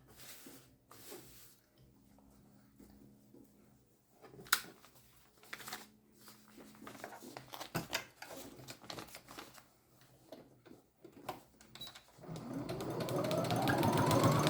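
A domestic sewing machine stitching a foundation-pieced quilt block: quiet handling and fabric rustle at first, then a steady, close mechanical whirring run that builds in loudness at the end, with no talk over it.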